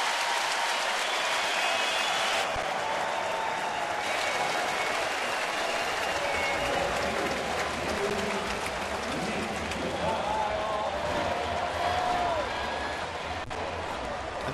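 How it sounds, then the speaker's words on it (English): A baseball crowd gives a sustained ovation after a base hit. The applause and cheering are loud and continuous, with announcer commentary running over the top throughout. "And look at this ovation from the crowd."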